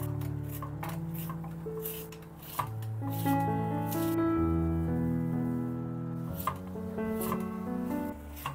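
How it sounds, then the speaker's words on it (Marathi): Cabbage chopped with a knife on a board for a dal-cabbage dish; sparse, irregular knife strikes sound over steady background music that dominates the mix. "त्यासाठी जरा कोबी चिरून घेते"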